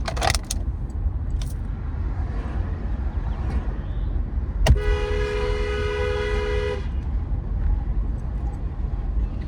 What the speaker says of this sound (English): I just felt like honking my horn